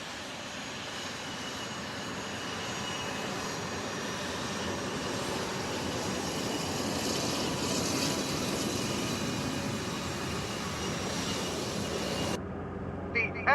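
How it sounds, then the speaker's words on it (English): F-16 jet planes fly past overhead in a sustained, broad roar that swells gradually and holds for many seconds before cutting off abruptly. "The F-16 jets are flying."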